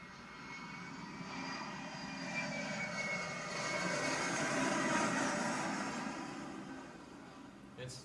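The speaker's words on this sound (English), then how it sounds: "And here's the sound of a jet." Jet engine roaring steadily with a high-pitched whistling tone on top, swelling slightly louder midway and fading a little toward the end, heard alone.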